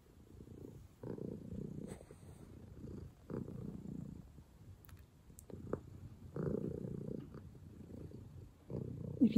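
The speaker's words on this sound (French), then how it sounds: "Je sais pas si vous entendez ces ronrons." A cat purring at close range, a low steady rumble that swells in long rhythmic bursts with each breath, with soft rustles in between.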